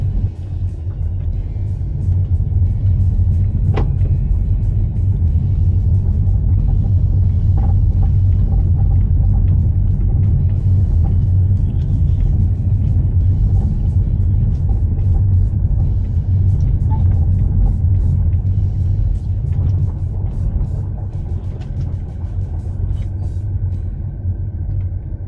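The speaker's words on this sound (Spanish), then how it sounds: "ya vamos al volante de este DFSK 600" Steady low road rumble from inside a DFSK 600 SUV, a 2025 seven-seat family model, driving over regular pavement, with constant engine and tyre drone throughout and a brief knock near the start.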